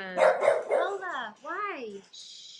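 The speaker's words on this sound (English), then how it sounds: "Sorry, that's my dog." A pet dog gives several sharp barks that slide into whiny, yelping cries indoors, with a person speaking briefly over the barks and then hushing it.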